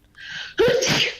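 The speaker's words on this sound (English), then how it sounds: "as she sneezes" A loud, close sneeze: a breathy intake builds up, then a sharp voiced burst that trails into a hissing exhale.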